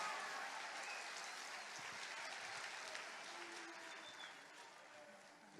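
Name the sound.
audience applause at a live DJ event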